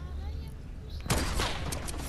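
A single loud, sharp sniper rifle shot in Fortnite cracks out about halfway through, against a background of game noise with a voice nearby.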